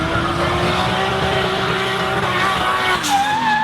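A Nissan 180SX making a D1NZ Pro-Am drift run at Taupo, its engine roaring loud and sustained close by with a steady high note that rises near the end, tire squeal mixed in.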